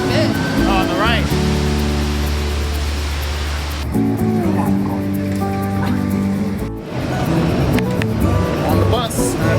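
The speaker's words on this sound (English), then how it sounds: "On the bus. Not a bad bus." Public metro bus ride in Mexico City: a steady engine drone with shifting low tones as the bus accelerates and changes gear, continuous road noise, and a brief dip near the end before the rumble resumes.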